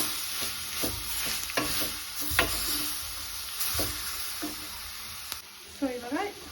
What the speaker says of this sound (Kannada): ನೆಕ್ಸ್ಟ್ ಏನು ರುಬ್ಬಿಟ್ಕೊಂಡಿದ್ವಲ್ಲ ಈ ಮಸಾಲ ಹಾಕಿ ಚೆನ್ನಾಗಿ ಫ್ರೈ ಮಾಡ್ಕೋಬೇಕು